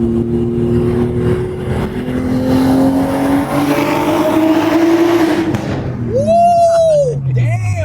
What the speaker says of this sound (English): that's how you shift an R32